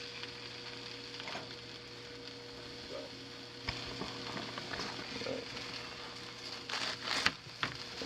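Mushrooms fry in a cast iron pan with a steady, low sizzle throughout, and a few louder crackles and stirring scrapes come near the end.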